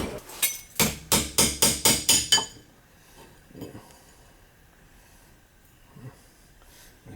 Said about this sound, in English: A little hammer action.